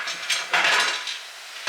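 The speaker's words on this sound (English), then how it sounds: "We're going to put our lid on top." A metal lid set onto a pressure canner pot, a few soft clanks and scrapes of metal on metal, close up and fairly quiet, with no voices.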